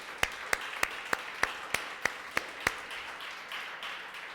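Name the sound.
church congregation applauding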